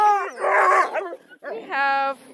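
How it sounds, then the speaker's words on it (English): Hound dogs, including a black and tan coonhound pup alongside bluetick and redbone hounds, bark and bay in long drawn-out howls, two loud sustained calls close by with a short gap between them. "we have one black and tan, a nice black and tan pup there"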